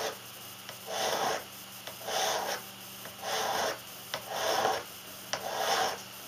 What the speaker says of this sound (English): I'm not filing at a great angle. I'm not putting a lot of pressure.